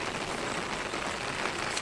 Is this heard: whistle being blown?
no